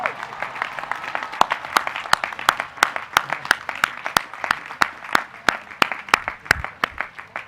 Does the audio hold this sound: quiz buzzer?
no